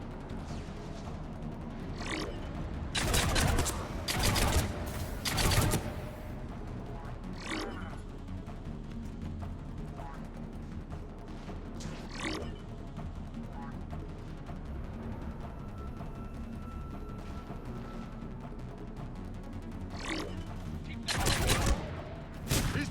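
Firefight in the Mass Effect video game, with scattered bursts of gunfire and impacts, some loud near shots clustered early and late, over a constant low background rumble.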